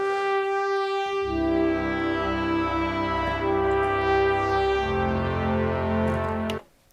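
A Prophet 6 analog synthesizer drones a sustained, harmonically rich chord drenched in large hall reverb and delay, loud and steady, with a lower note shifting partway and a sudden cutoff near the end.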